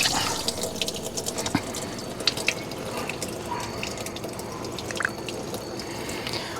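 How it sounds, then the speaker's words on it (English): Water mixed with vinegar runs from RV faucets in a steady, moderately quiet flow, with scattered drips and small splashes on top. "we'll turn the water on, we'll go inside, and we'll open up all the faucets until we smell vinegar come out"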